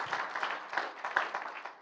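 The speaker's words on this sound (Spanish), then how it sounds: "Dale un aplauso fuerte al Señor" Applause in a church service, a congregation clapping for God after a sermon, moderately faint and brief, a scattered patter of many hands.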